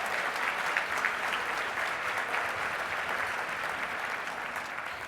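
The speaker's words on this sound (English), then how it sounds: "how much more clapping do we have?" An audience at the Spotlight on Success 2023 awards event applauds, a steady, dense patter of many hands clapping at even loudness for the whole stretch, heard from within the room.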